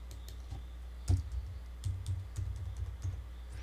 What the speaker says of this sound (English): I will type in here.